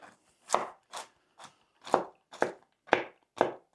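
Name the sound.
walnuts being finely chopped with a knife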